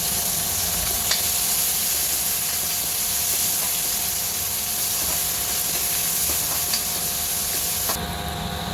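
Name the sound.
onions frying in oil with five-spice seeds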